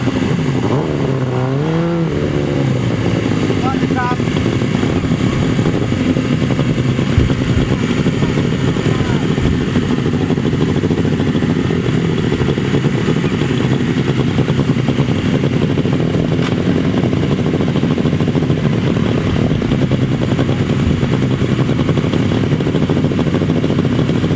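Grasstrack racing sidecar motorcycles revving in a steady, loud engine roar while lining up for the right-hand sidecar final at Torry Hill, with a voice talking over the din throughout.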